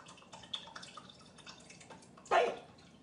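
Liquid drips and splashes in a home kitchen, a run of faint soft ticks followed by one louder, brief splash near the end, recorded up close in a quiet room.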